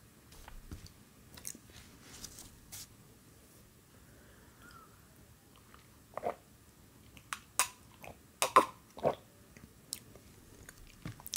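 A Nutella-topped shortbread biscuit is chewed close up, with soft, quiet mouth sounds that build into several sharper crunchy bites near the end.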